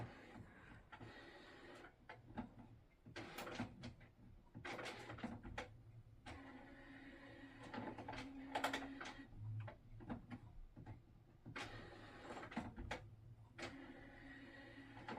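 A printer running a head-cleaning cycle makes faint, irregular mechanical whirring, clicking and ticking in uneven bursts, quiet and close, with no speech.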